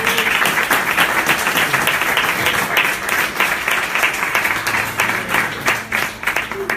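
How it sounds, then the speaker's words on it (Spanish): A church congregation at a Sunday service breaks into loud, sustained applause, dense overlapping clapping that fills the room without pause from start to finish. "¿Cuántos dan un fuerte aplauso al Señor?"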